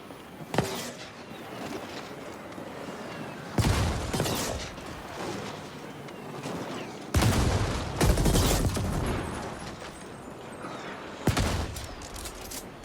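Bursts of gunfire from the sci-fi shooter The Ascent, loud volleys at around one, four, seven to nine and eleven seconds over a steady bed of game ambience.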